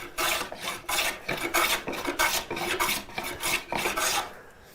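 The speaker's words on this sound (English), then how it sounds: "the longer we go, the more you'll hear it taking longer strokes, longer strips" A hand tool shaves long wood strips while building a bow sander, giving steady rasping strokes, about nine to ten evenly spaced scraping passes, close and loud, with no talking.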